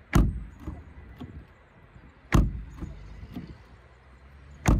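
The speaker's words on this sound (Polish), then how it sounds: "Posłuchajmy dźwięku zamykania drzwi." Three solid car door slams on a 2023 Opel Astra L PHEV at spaced intervals, each a deep thud with a short metallic ring, close by in a quiet setting.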